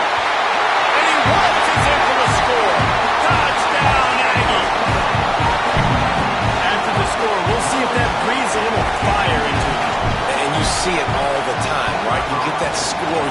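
Loud, dense stadium crowd roar fills the scene right after a touchdown in the NCAA 26 college football video game, a steady wash of cheering with clapping and bursts running throughout, while a commentator talks over it.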